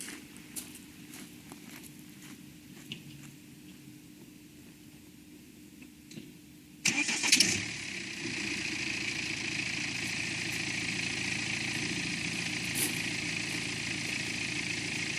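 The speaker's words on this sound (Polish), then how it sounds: "Jak słyszycie silnik chodzi bardzo cicho, bardzo płynnie." After quiet background noise and a few light knocks, a BMW N47 diesel car engine, with newly replaced timing chain, cranks and starts abruptly, then settles into a steady, smooth, quiet idle that continues.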